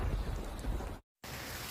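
Heavy rain pours in a cartoon jungle, a dense roaring wash with low rumble, cut by a brief moment of total silence before the downpour resumes just as strongly.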